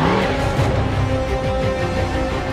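Callaway Corvette C7 GT3-R race car engine starting and running in the pits at the Hockenheimring, a loud, steady low rumble filling the whole stretch with no talk over it.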